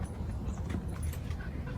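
A dog growls low and steady at close range, a continuous rumbling snarl with no voices over it, heard while out at a state park.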